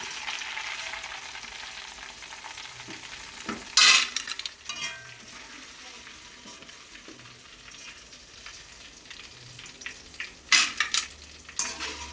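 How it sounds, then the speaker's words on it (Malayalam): Jackfruit chips frying in hot oil with a soft, steady crackle, punctuated by a few sharp clattering bursts of stirring and scooping, close by with no talking. "എന്നിട്ട് നമ്മൾ വറുത്ത് കോരുക."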